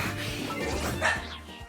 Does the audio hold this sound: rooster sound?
no